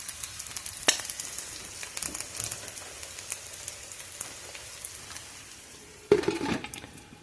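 Eggs and purple cabbage with melting cheese frying in a cast iron pan, a soft, crackly sizzle with scattered pops, growing louder and busier near the end.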